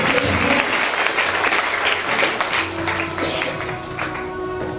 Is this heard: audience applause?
yes